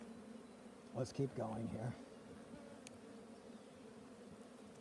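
Honey bees buzz steadily inside an opened hive colony, a low continuous hum with a brief spoken remark over it near the start.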